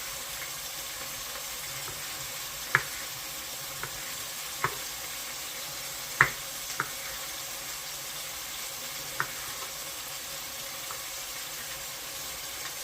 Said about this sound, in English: Whilst the beef is cooking